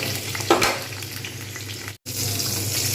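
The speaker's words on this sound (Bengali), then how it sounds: "একটু ব্রাউন করে ভেজে নেব আগে কটা ভেজে নিয়ে তারপর ফিরে আসছি" Pieces of pointed gourd fry in hot oil in a pan, giving a steady soft sizzle with a brief stirring clatter near the start and a momentary dropout.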